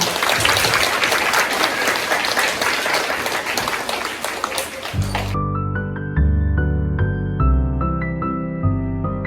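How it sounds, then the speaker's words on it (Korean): A crowd claps loudly and steadily for about five seconds at a church children's Christmas program, then the applause cuts off as bright music begins. "다시 한번 큰 박수 부탁드립니다."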